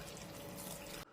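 Water runs briefly and softly into a cooking pot holding coriander seeds, curry leaves, turmeric and tamarind for tomato charu, a short steady gush that stops abruptly.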